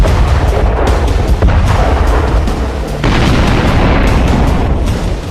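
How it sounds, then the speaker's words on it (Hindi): Artillery cannons fire and shells explode on a smoky mountain battlefield near the China–Nepal border, a loud, dense, continuous roar of overlapping booms and blasts with no pauses. "गरजती तोपें, दनादन बरसता बारूदी गोला,"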